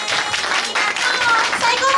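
A concert audience at a Japanese idol group's summer show claps in a loud, dense burst, with crowd voices rising through the applause.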